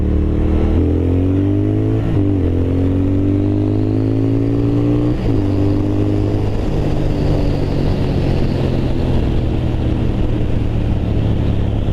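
A 2023 Triumph Thruxton RS Chrome Edition cafe racer motorcycle accelerating hard, its engine note climbing through several gear changes with brief dips between shifts, loud and close with heavy wind rush building.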